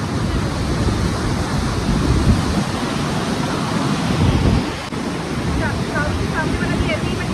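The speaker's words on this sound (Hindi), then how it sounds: "पीछे की लहर देखो कितनी तेज आ रही है।" Strong sea waves surge and wash continuously along the rocky shore at Bandstand, Bandra, Mumbai, a loud broad roar mixed with heavy wind buffeting the microphone, with faint bird calls near the end.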